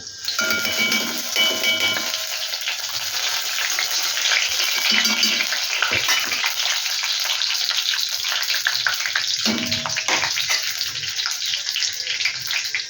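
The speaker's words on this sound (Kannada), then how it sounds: "ಒಗ್ಗರಣೆ ಮಾಡ್ಕೊಳ್ಳೋಣ" Mustard seeds crackle and sizzle in hot ghee, a dense steady frying hiss with occasional metallic clinks, close by and fairly loud.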